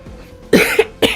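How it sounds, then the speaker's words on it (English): A person coughs sharply twice up close, two harsh bursts about half a second apart after a quiet start, with no talking. "If you hear me coughing, I've been going through it this week"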